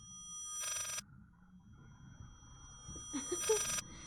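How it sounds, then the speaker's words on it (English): An old-timey telephone rings in the horror game Layers of Fear, two short trilling bell bursts separated by a pause, faint and distant, with a few soft knocks near the second ring. "It's like a phone,"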